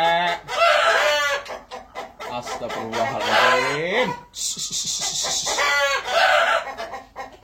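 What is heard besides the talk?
noisy chickens (free-range village chickens)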